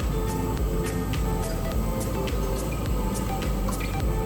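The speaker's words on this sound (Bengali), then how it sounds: "আর দিয়ে নেবো পরিমাণ মতো সাদা তেল।" White cooking oil is poured into a pot of rice being cooked for fried rice, with soft dripping and trickling over a steady kitchen background hum.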